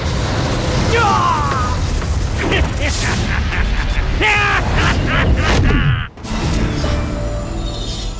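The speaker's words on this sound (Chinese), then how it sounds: "可怕的爆炸！" An explosion in the video game Tera Classic: a dense mix of mechanical creaks, clanks and rumbling booms, ending in a sudden deep blast that briefly drops out before the noise resumes, with a voice talking over it.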